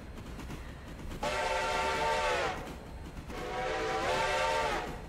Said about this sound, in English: Is that a new whistle? I don't think I've heard that one.